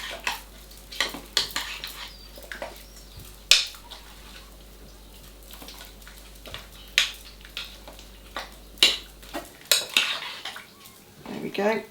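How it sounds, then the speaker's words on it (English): Chicken curry with spices and pastes being stirred in a slow cooker: a spoon repeatedly knocks and scrapes against the pot in uneven clusters over a low, faint background, with occasional louder clanks and no talking. "So give it all a good stir up."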